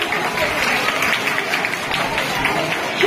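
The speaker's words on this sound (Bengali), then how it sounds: "ওর জন্য তোমরা জোরে হাততালি দাও" A crowd claps for a student at a recycled-products auction, steady dense applause filling the room for about three seconds without a break.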